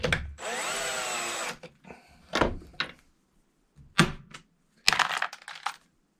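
A 224 Valkyrie brass case is tapped against a piece of plastic on a workbench, producing several sharp, close knocks and clicks after a brief opening burst of whirring.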